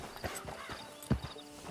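Horse hooves clip-clop in the Western video game Red Dead Online, a few soft, close steps in a brief, quiet burst, with one sharper thud near the end.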